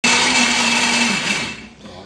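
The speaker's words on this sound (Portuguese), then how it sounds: "Vou botar pro liquidificador nessa." Kitchen blender whirring at full speed as it purées tomatoes for soup, a loud steady motor whine that winds down to a stop near the end, with no talk.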